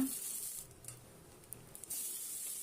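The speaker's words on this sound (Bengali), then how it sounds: "সর্ষেটা ছিটে এসে পড়ছে এর জন্য ঢাকা দিয়ে দিলাম" Hot oil hisses and sizzles softly, with a few small pops and spatters, fading down briefly in the middle before the hiss returns.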